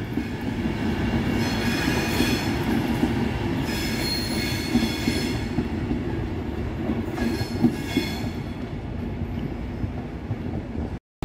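A nine-coach Avanti passenger service from Glasgow Central to London Euston rolls past at close range, a loud continuous rumble of wheels on rail with bursts of high wheel squeal and clicking joints, ending abruptly.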